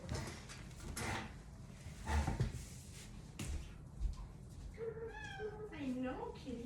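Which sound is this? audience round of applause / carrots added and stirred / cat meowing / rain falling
cat meowing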